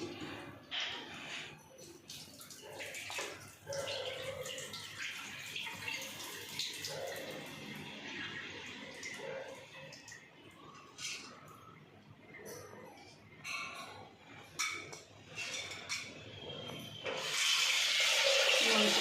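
Toor dal is rinsed and squeezed by hand under running water in a kitchen, wet sloshing and splashing throughout, ending in a stronger steady stream from the tap, with some voices nearby.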